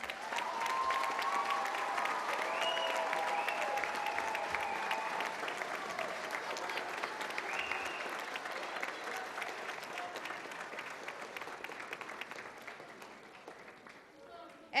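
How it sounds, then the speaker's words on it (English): Sustained applause from a graduation ceremony audience fills the hall, a dense steady clapping with crowd voices and a few cheers, loud and continuous before gradually thinning toward the end. "Let's give them a big round of applause"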